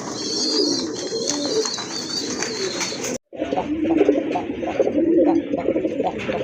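A male Rajgolla pigeon coos repeatedly, with low, throaty, rolling calls heard close over a constant background hum, broken briefly by a short silence midway.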